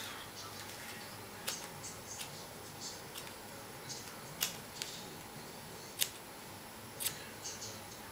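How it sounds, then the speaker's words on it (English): Scissors snip through the fabric of a wig dome cap in a series of sharp, close, quiet cuts, roughly eight crisp snips at irregular intervals over faint background hiss. "So, just gonna cut this off."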